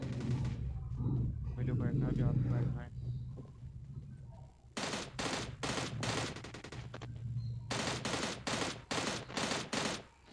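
M16 and VSS gunfire in PUBG Mobile Lite erupts in rapid repeated bursts, loud and close, after an opening stretch where a person talks.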